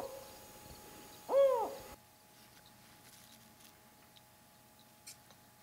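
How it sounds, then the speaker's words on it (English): A Mexican spotted owl in high forest gives a single brief, close, wavering hoot, then the surroundings fall quiet except for a faint click. "The Mexican spotted owl."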